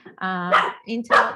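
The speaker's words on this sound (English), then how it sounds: "I apologize about my dog being rude here." Loud, close dog barks, two or three sharp yelps, burst in during indoor talk as someone speaks through a home setup while a gardener works outside.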